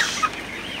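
Chickens in a poultry house during hot weather give a short, close cluck or two, a brief sharp call over steady background noise.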